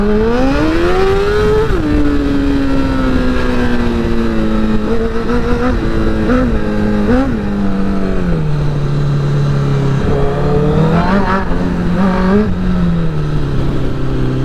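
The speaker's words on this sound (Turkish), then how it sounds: "Egzozu konuşturuyorum." Loud motorcycle exhaust revving up and down close by, the engine pitch rising and falling repeatedly with a rough, throaty rumble.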